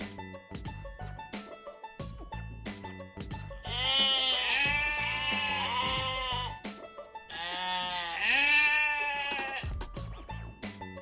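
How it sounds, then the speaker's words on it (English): Goat bleating on a farm, two long wavering bleats sounding loud and close, set among short sharp animal calls and knocks. "In English we say goat, goat."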